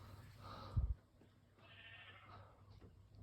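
Sheep bleating in sheep rooms, heard as wavering cries at moderate distance, with a brief low thump partway through and steady background noise.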